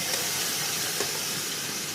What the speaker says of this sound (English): I just pour in the palm oil.